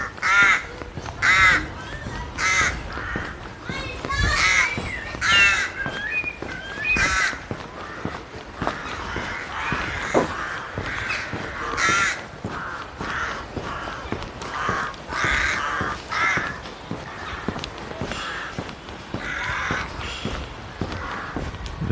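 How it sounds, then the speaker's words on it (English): Rooks cawing repeatedly in rural Ireland, harsh calls overlapping from several birds, some near and some farther off, with occasional footsteps. "Oh, the crows, the rooks."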